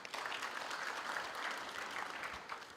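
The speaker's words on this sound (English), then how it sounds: "can we give that a round of applause?" Applause from the crowd at a Walter Sisulu University graduation ceremony, a dense, even wash of many hands clapping at moderate distance, continuous throughout with no talk over it.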